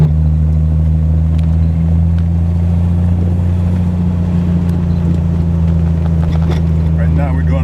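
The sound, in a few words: Triumph TR6 engine driving in third gear at 1,800 RPM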